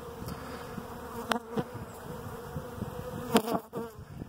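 Honeybees buzzing close by around a hive in a bee yard, a continuous insect hum with a few sharp clicks and knocks in between.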